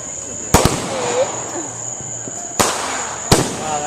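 A 36-shot firework cake fires sharp, loud cracking bursts at uneven intervals, with a steady high whine and faint voices between the shots outdoors.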